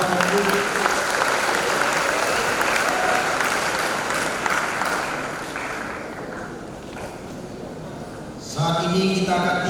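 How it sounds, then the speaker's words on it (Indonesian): Large crowd at a theology college graduation ceremony applauds in a sustained wash of clapping that gradually fades, then a voice begins speaking over a public address system near the end. "Mari berikan tepuk tangan Bapak Ibu."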